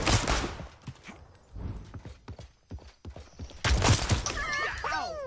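Bursts of gunfire ring out in the video game Realm Royale, with a cluster of shots at the start and another loud volley around four seconds, followed by warbling tonal game effects.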